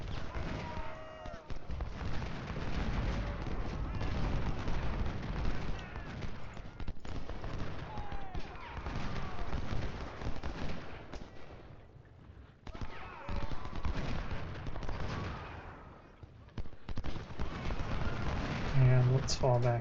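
Artillery and musket fire in Ultimate General Civil War, a continuous rumble of distant volleys and crackling shots rising and falling, with a voice talking over it.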